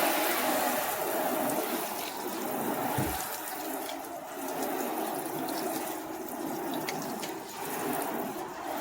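Water sprays from a hose on the shower setting as it rinses a car-detailing test panel, a steady close hiss with a brief thump partway through and no talking.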